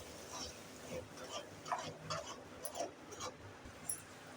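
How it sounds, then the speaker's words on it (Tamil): Cracked eggs being whisked with salt in a bowl, giving soft, uneven clinks and light sloshing taps of a utensil repeating quietly and close. "உப்பு சேர்த்துட்டு இதை நல்லா மிக்ஸ் பண்ணிக்கிடலாம்"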